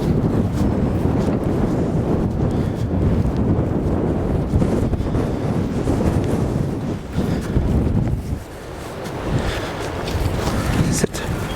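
Strong wind blows outdoors at a gun dog training field, roaring steadily against the microphone with gusts that swell and ease, and a voice is barely heard under it.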